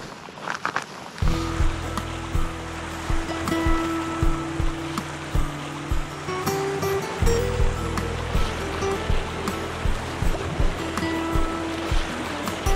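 Rapids rush loudly and steadily on the Nuorttijoki river during a canoe trip, a broad continuous roar of churning water that starts after a short quiet moment and holds to the end, with occasional knocks over it.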